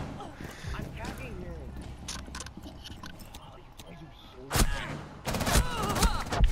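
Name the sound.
gunfire in a video game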